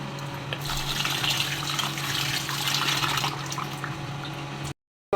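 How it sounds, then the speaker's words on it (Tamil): Rice and moong dal are rinsed under running water, a steady close splashing and swishing that continues for several seconds before cutting off abruptly, with no talking. "இப்போ ரெண்டையும் சேர்த்து நம்ம கழுவிக்கிட்டு மூணு கழுவு"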